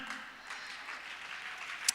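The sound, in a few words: applause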